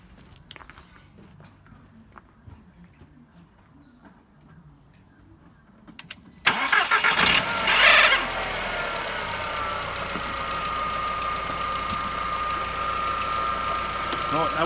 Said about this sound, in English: So I'm going to start the car up now.